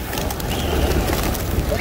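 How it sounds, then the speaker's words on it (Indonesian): Pigeons in the courtyard of Masjidil Haram in Makkah, where many people feed the birds, give soft steady cooing and faint bird calls against a broad crowd murmur. "ini ya banyak sekali yang ngasih makanan burung ini ya"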